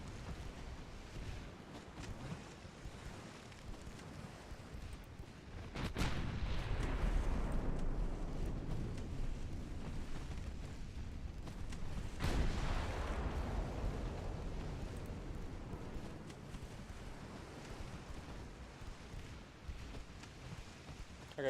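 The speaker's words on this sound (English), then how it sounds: "there was a torp. You see it explode?" A torpedo exploding in a naval warfare video game, two deep rumbling booms that swell and fade slowly over a constant low background roar.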